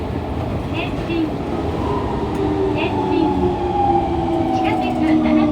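A Fukuoka City Subway 2000 series train with Hitachi late-type GTO-VVVF traction equipment running underground, with steady rumbling wheel noise and rising and falling motor whine tones, heard from inside the car.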